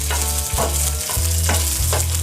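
Chana dal and green chillies frying in a pan, a loud continuous sizzle up close with several rhythmic stirring strokes and scrapes.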